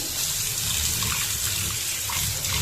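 Running water rinses raw prawns and bhola fish in a kitchen sink, a steady broadband splashing gush that stays close and even throughout.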